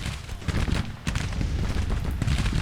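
Musket volleys crackle in Grand Tactician: The Civil War, a rolling, continuous rumble of massed gunfire at mid-distance with a sharper crack about a second in, no voices.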